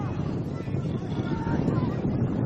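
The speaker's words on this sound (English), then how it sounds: "And we did say it was windy, David." Wind buffets the microphone at an outdoor football match between Adelaide United and Adelaide City, a steady loud roaring rumble with no pauses.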